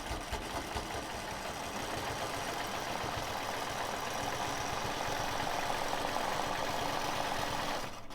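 Sewing machine stitching a ribbon candy quilt design, a steady, rapid mechanical whirring and needle chatter running continuously up close before stopping at the end.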